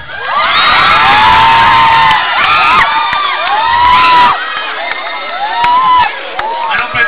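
A live crowd at a comedy show in Bulacan cheers, whoops and shouts loudly and continuously, with applause mixed in and voices swelling and overlapping throughout.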